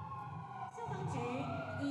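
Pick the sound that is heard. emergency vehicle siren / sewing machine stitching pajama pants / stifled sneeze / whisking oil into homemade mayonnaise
emergency vehicle siren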